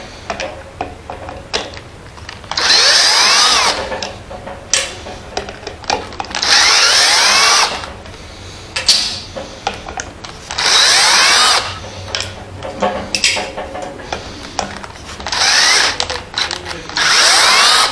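A cordless electric screwdriver, a long-unused unit brought back to working order, runs in reverse in repeated bursts of whirring a few seconds each, backing out four screws, with ticking and clicking between runs.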